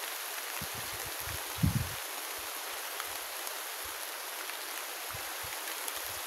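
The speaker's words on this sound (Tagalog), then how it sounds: "Pero malakas ang ulan" Heavy rain falls on a farm plot planted with banana and cacao trees, a steady hiss of drops on leaves and ground with scattered low thumps and a brief louder knock partway through.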